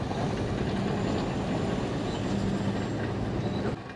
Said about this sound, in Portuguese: O silêncio cortado pelo som de máquinas pesadas.